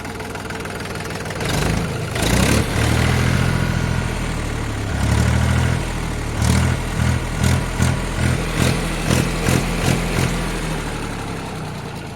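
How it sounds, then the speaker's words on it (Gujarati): A Mahindra B 275 tractor engine idles with a steady, low, throbbing rumble. Several stronger pulses and revs rise out of it, and no voices can be heard. "powerful engine bonnet"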